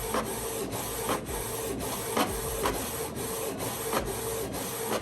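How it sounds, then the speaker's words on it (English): A Canon Pixma TS3122 inkjet printer prints a page nearby, its print head shuttling back and forth in a steady rhythm of whirring passes and clicks. "we're gonna print it on my printer"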